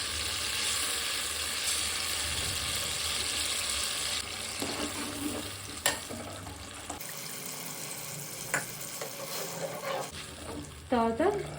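A fish curry with tamarind pulp and onion paste is stirred in a pan, a close bubbling sizzle with scraping spoon strokes and a wet, watery churn that loosens midway, with faint sounds of activity around.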